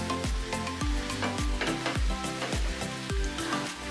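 Egg bhurji, Indian masala scrambled eggs with chopped coriander, stirred in a hot pan: a loud, close sizzle punctuated by rhythmic scraping strokes roughly every half second, with no talk.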